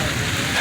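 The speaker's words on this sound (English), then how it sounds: "It is raining like crazy." Heavy rain pours down during a storm, a dense, steady wash of drops hammering surfaces close by, loud and continuous with no voices.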